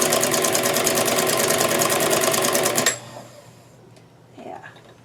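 A home sewing machine stitching a doll dress runs loud and steady with a fast mechanical rattle for about three seconds, then stops abruptly, leaving faint handling noises and a low hum.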